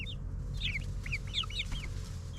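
A mother hen and her 12-week-old chicks make soft clucks and high peeping chirps in quick, overlapping bursts, close by and moderately quiet over a low background rumble.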